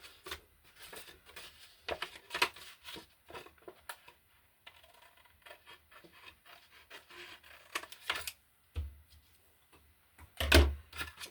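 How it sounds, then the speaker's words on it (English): Scissors snip through paper for junk journal ephemera cards in a string of short, close, crisp cuts and rustles, irregularly spaced with brief pauses and a louder handling clatter near the end. "now I will cut off this part"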